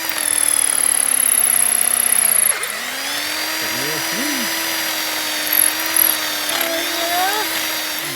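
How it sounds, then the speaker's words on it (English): A power drill whines steadily up close drilling out an exhaust manifold bolt on a 1966 Ford Thunderbird, pausing briefly once and then grinding on at a constant pitch with small squeaks. "been drilling out the first one here"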